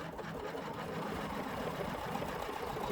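An embroidery machine runs a slow stitch on an in-the-hoop zipper bag, sewing vinyl onto a quilted area. Its steady mechanical whir and rapid needle rhythm carry on without a break at close range, with no talking.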